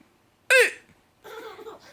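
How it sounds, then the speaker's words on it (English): A baby with hiccups, one sharp loud hiccup followed after a pause by soft babbling or giggling vocal sounds, close and quiet otherwise. "I should keep my hiccups to myself"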